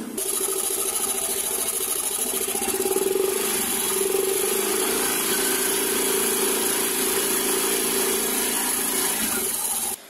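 A Yamaha Mio i 125 scooter engine runs at a steady idle after CVT cleaning, a close, even buzzing hum holding for about ten seconds before cutting off.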